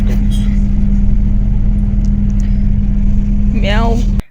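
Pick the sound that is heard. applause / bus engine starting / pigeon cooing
bus engine starting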